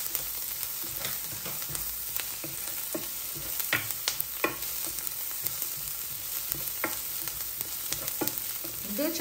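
Onions frying in a pan for palak paneer, a steady dense sizzle with scattered sharp scraping clicks from stirring throughout, close and fairly loud with no talk.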